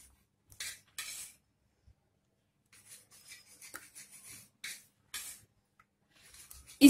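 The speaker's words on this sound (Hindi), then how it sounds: "और उसमें ब्रेड को ऐसे करके ब्रेड के किनारे को काट लेंगे।" A kitchen knife trims the crusts from slices of white bread for a mayonnaise sandwich, giving scattered short scraping and rasping strokes close by, with quiet gaps between the cuts and no talking.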